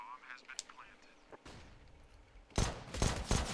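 Gunfire in a Counter-Strike match on Inferno, with a P250 pistol among the shots: a few sharp cracks with a dense cluster of loud bursts near the end, over background game noise.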